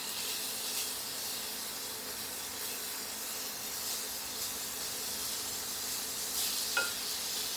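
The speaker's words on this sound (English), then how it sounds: "Oh, it's sizzling like it's supposed to." Freeze-dried ground beef sizzles on a hot grill in a continuous bright hiss, with a faint scrape of stirring near the end.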